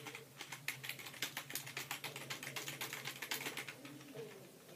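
Rapid computer keyboard typing during a Mario 64 session, a dense, uneven run of close key clicks that thins out near the end, with no voice.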